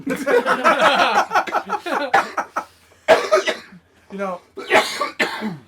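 A person talks and chuckles, breaking into a few sharp coughs and throat clearing between bursts of speech, close to the microphone.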